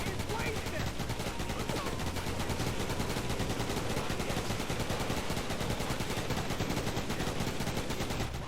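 Continuous rapid turret gunfire from the video game RoadKill, a loud, dense stream of shots with little break across the whole stretch, with faint talk mixed underneath.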